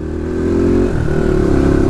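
A Crossfire 450 motorcycle engine, a powerful 42 bhp bike, runs close and loud with a steady low throbbing note and a slight dip in pitch midway.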